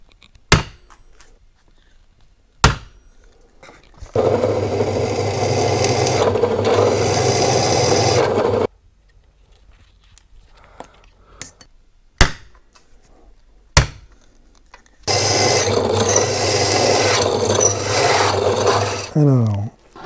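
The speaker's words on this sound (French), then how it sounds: "je vais percer à 8" A drill bores 8 mm holes for the screws of motorcycle side cases in two loud, grinding bursts of several seconds each. Sharp knocks and clicks come between the bursts, and the drilling is heard alone with no talk.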